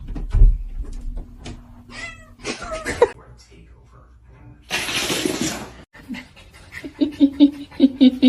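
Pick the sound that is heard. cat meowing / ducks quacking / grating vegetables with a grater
cat meowing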